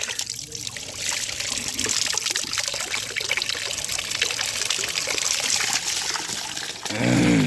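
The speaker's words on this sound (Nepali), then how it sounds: "यहाँ चाहिँ अर्ग्यानिक पानीको धारा देखाउँछु है" Water runs steadily from a natural spring spout, a continuous close trickle and splash with a slightly heavier gush near the end and no voices.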